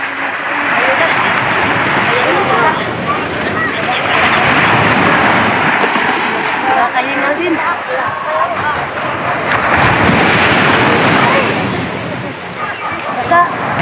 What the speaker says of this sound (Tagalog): Ingay ng alon, lakas ng hampas.